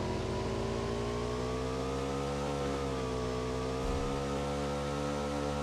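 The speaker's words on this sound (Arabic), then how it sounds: "نطير بموتور." A motorcycle engine droning steadily as it is ridden in PUBG, a loud sustained buzzing hum with slight pitch shifts and no break.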